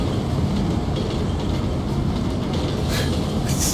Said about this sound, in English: It's a zombie train.